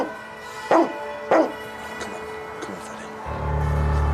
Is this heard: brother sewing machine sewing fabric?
no